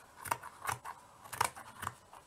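Fabric scissors snip in several short, crisp cuts while a wall hanging is being made, close and fairly quiet, with no talking over them.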